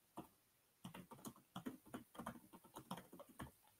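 Keys clatter on a computer keyboard in quick irregular bursts of close, light clicks after a brief pause, quiet and with no voices.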